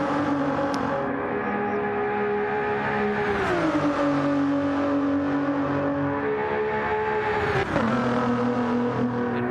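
Race car engines in Gran Turismo screaming at high revs in sixth gear down a straight at nearly 270, steady sustained whine with two sharp downshift pitch drops near the braking zone, loud and close with no talk.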